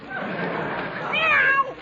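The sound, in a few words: cat yowling after its tail is stepped on, radio sound effect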